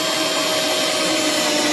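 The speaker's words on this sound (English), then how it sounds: "Go ahead and drill some holes in there." A steady, loud mechanical whine of a power drill boring holes in a plastic sump basin runs unbroken throughout, with a sustained high tone and no pauses.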